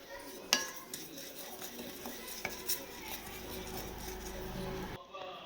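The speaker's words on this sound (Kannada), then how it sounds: "ನೆಕ್ಸ್ಟ್ ಈಗ ಸ್ವಲ್ಪ ಎಳ್ಳು ಹುರ್ಕೊಳ್ಳೋಣ, ಬಿಳಿ ಎಳ್ಳು." White sesame seeds roasting in a pan for a Shivaratri tambittu sweet give off a soft, continuous dry rustle, punctuated by sharp clinks of a spoon scraping and stirring against the metal, fading out abruptly at the end.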